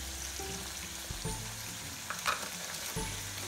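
Red chili powder fries in a pan for a traditional goat liver gravy, giving a faint, steady sizzle with soft stirring scrapes and light clinks close by, with no talking.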